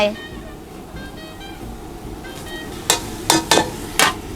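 Beef stir-fries with holy basil and fresh chilies in a pan, a low sizzle followed by several sharp, loud scraping strokes of a spatula in quick succession near the end.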